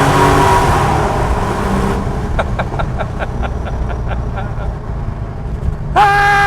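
An air-cooled Porsche 911 of the 993 generation with a Pfister Stage 2 exhaust drones loudly inside a road tunnel, a steady engine roar with a regular pulsing pattern, close and strong throughout, ending with a sharp rising tone.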